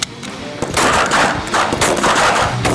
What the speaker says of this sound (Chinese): 第2轮射击时，胡雪琴克服了手臂力量的问题，射击成绩有了明显提升